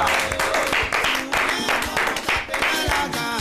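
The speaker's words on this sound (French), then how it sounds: "Applaudissez s'il vous plaît." A studio audience at a French evening television show breaks into loud, dense applause that holds steady for about three seconds, with some voices and cheers mixed into the clapping.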